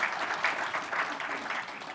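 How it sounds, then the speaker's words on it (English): A conference audience applauds at a technology event on its second morning, the clapping steady and dense throughout the short stretch, with no voices rising above it. "Folks, one more round of applause, please."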